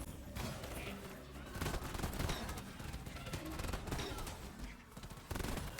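Dense, continuous gunfire as a player shoots swarms of bugs in Deep Rock Galactic during a solo elite deep dive, rapid overlapping shots running steadily throughout at a moderate level.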